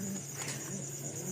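Bashiraj pigeons coo softly in a small loft, a faint, low, steady murmur with no voices over it.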